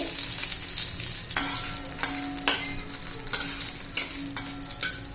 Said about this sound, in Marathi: तुपात त्यांनी बदामचे तुकडे करून घातलेले आहे आपण हे तुपात तळून घ्यायचे